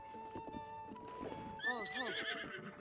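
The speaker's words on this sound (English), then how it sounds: "register my horse here." A horse in the video game Zelda: Tears of the Kingdom gives a loud whinny that rises and wavers, over soft clip-clop hoofbeats and game background music.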